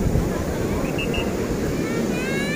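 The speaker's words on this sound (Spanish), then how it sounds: "Está tremendo el oleaje, mis amigos" Surf crashes on a shore in a heavy swell, a dense, steady rush of water with wind buffeting the microphone throughout.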